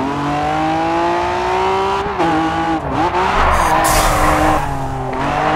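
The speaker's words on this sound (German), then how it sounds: "Ziemlich guter Drift." A car drifts in the racing video game Grid 2. The engine drones loud and close under a continuous tire squeal that swells and shifts as the slide goes on, with no voices.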